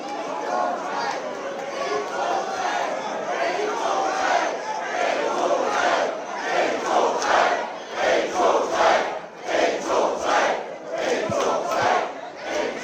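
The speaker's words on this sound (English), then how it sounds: "And the crowd chanting 1, 2," Wrestling crowd at a Nordic Elite Wrestling match at Amager Bio, a packed hall chanting in loud rhythmic bursts during a pin count, voices swelling and pulsing together in close, dense waves.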